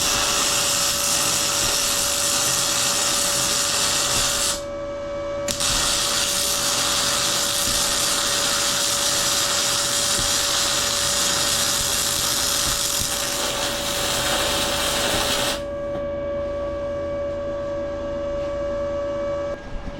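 An Arccaptain MIG200 MIG welder lays a bead, a steady loud buzzing crackle that runs nearly the whole time, with a brief pause partway where the trigger is released before the arc resumes and then stops near the end.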